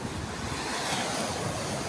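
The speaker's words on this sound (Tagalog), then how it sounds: "Ang lakas ng hampas ng alon" Ocean waves crash and roar continuously in a strong storm, mixed with gusty wind buffeting the microphone, loud and close with no voices.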